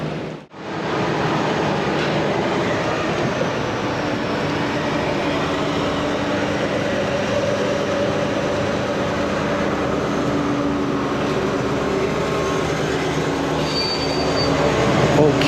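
A passenger train on Thailand's Bangkok–Chiang Mai northern line rolls steadily along, with a continuous loud rumble of wheels on rail, carriage rattle and an occasional faint wheel squeal, and no voices.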